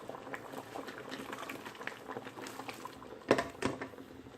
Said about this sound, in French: Maintenant, puisque notre sauce a bouilli, nous allons mettre maintenant